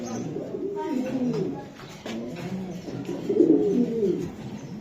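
Young racing pigeons, black chicker variety, coo repeatedly at close range in low throaty bursts, with brief pauses between the rolling calls.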